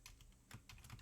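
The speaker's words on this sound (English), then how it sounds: "So obviously we need to input or type the Python code" Someone types on a computer keyboard, a few quick soft key clicks in a short, faint burst, heard alone up close.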